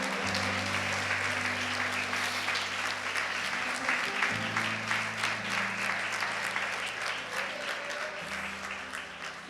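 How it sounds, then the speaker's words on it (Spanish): A church congregation clapping loudly and continuously, steady dense applause with a sustained low musical tone underneath, holding at full volume for several seconds with no speech over it. "Dale un fuerte aplauso al Señor."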